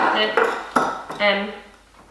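Rhubarb and sugar shaken together inside a sealed glass jar, producing a few quick knocks and a rattling, rustling swirl that trails off, no one talking.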